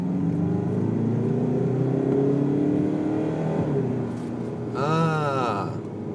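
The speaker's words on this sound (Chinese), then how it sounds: "我轻微踩一点刹车就可以过这 corner， 然后马上加速" A car on a test drive eases through a corner with a light touch of the brakes and then accelerates. A steady engine hum gives way to a sharp rise in revs near the end, and someone talks over it.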